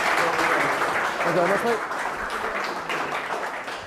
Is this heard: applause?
yes